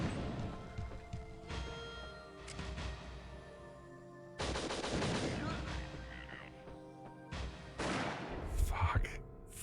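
Gunfire in the video game WinBack, loud blasts and impacts in several separated bursts over steady game background noise, mixed with a player's voice.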